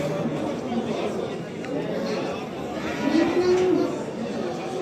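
Calves and cattle at a livestock market in Ganja, with a low moo rising above a steady background of crowd chatter and nearby talking.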